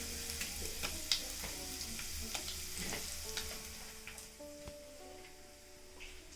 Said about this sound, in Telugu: అలాగే ఉద్దిబ్యాళ్ళు, జీలకర్ర ఆవాలు, ఎండుమిరపకాయలు కూడా వేసినాను